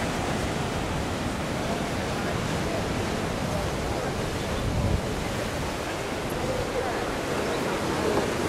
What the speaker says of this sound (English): And the water you're looking at is the Atlantic Ocean.